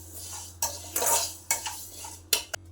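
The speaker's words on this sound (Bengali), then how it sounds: "আগে আমি শুকনো খোলায় ডালটা ভেজে নেব।" Lentils dry-roast in a pan with no oil. A utensil scrapes and stirs them in a few distinct sweeps with short metallic clatters, set against a low background hum and no voices.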